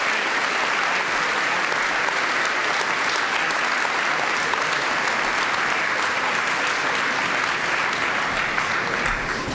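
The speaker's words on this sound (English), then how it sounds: "Now you can clap for the All Simone team" A banquet audience gives sustained, loud applause at a football awards banquet, a dense, even wash of clapping that continues without a break.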